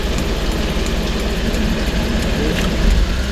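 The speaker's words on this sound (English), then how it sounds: "there's the clutch engaged, rolling, RPMs went up" A 1998 Mitsubishi MiniCab 4x4 dump truck engine runs close and loud with the clutch engaged as the truck rolls, a continuous rough low drone with the revs rising.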